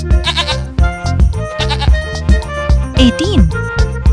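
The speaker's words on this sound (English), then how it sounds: "17 sheep." Sheep bleating in a rhythmic, bouncy pattern set to a cheerful children's tune with tinkling notes, loud and close.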